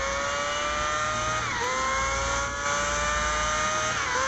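An F1 car in Car Parking Multiplayer screams at top speed, a loud, high-pitched engine whine holding steady, briefly dipping as a gear shifts, then climbing again, close and unbroken with no talk.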